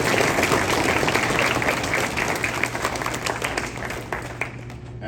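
At a school Veterans Day assembly, an audience gives veterans a dense, loud round of applause that gradually thins and fades toward the end.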